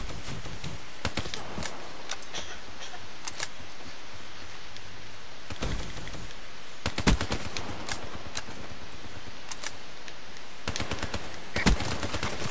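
Gunfire in a shooter game, with sharp cracks scattered in short clusters over a dense steady background hiss, fairly faint overall with no talking.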